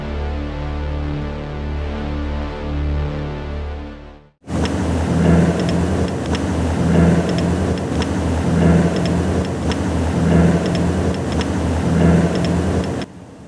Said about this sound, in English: Sounds like a motorbike actually.